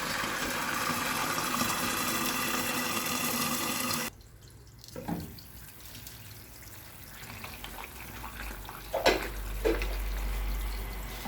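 Water is added to a pan while making rice kheer, with the flame off. A loud, steady rushing hiss lasts about four seconds, then drops to a quieter background with a few soft clinks and splashes. No one speaks.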